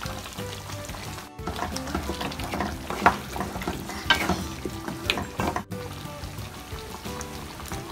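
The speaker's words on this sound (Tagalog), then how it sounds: "pwede na nating ilagay yung ating piniritong patatas at carrots" Fried potatoes and carrots go into a pan of pork caldereta sauce and are stirred: a steady bubbling sizzle with repeated scraping and clinking of the spoon, close and fairly loud, with no talking.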